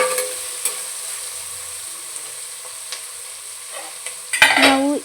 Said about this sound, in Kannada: ಈಗ ಚೆನ್ನಾಗಿ ಕೈ ಬಿಡದೆ ತಿರುಗಿಸ್ಕೊಳ್ಳೋಣ